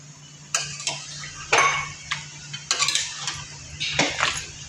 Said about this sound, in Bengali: দিয়ে একসাথে নেড়ে চেড়ে নিচ্ছি।